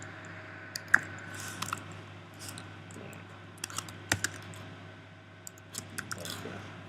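Keys on a computer keyboard are tapped in short irregular bursts of clicks over a low steady hum, close and fairly quiet, with no voices.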